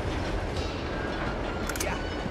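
A train in the Uncharted 2: Among Thieves video game rolls along in a steady, dense roar with a constant rumbling wash of noise. A brief sharp burst sounds near the end.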